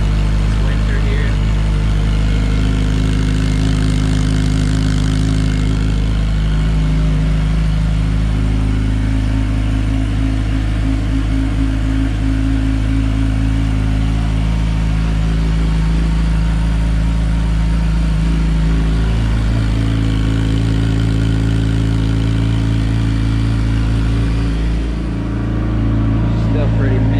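A warmed-up motorcycle engine, a Yamaha R6 or FZ-07, idles steadily and loudly close by for nearly half a minute, a continuous even drone with slight wavering, while a person talks over it.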